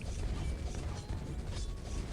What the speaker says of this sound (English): activate the track extension.